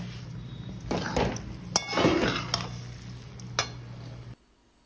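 Carrot halwa being stirred in a pan with sugar added, giving scraping and clattering strokes over a steady low hum, with a few sharp utensil knocks before it falls quiet near the end.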